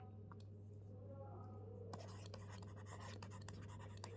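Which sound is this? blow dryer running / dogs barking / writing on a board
writing on a board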